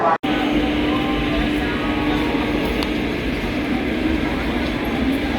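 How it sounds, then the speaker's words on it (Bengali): Ganadevata Express train at platform six in Howrah station, a continuous close rumbling roar of rolling stock with faint rattling, a brief dropout at the start and a voice speaking over it. "প্ল্যাটফর্ম নম্বর ছয় থেকে আপনার ছেড়ে যাচ্ছে গণদেবতা এক্সপ্রেস"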